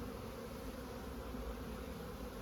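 Honeybees inside a light but strong colony's hive, a steady low buzzing hum that stays even and fairly faint throughout, with no voices over it.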